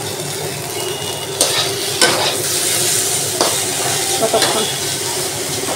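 Food fries and sizzles in a pan with a constant crackling hiss. Sharp scrapes and clinks from stirring cut in every second or so, and a voice briefly speaks.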